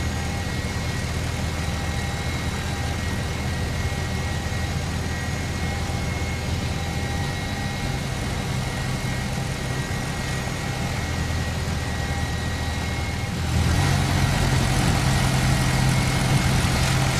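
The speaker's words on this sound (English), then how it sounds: "Starting engine 2." Airbus A320 engine spooling up during a start in the X-Plane flight simulator, a steady low rumble and whine with tonal hum that grows louder and heavier near the end, heard alone without talk.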